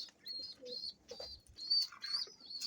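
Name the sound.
pigeons cooing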